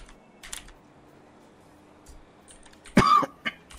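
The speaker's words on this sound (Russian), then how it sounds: "ты так больше не кашляй" A single sharp cough bursts out close and loud after a stretch of quiet with scattered clicks, followed by a shorter second bump of sound, in a GTA 5 roleplay voice chat.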